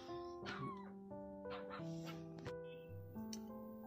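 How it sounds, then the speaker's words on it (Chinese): A rescued stray puppy inside a car whimpers and yips in repeated high, wavering whines, close and fairly loud against a low steady background hum. "天呀，小狗已经拿到车上来了啊。"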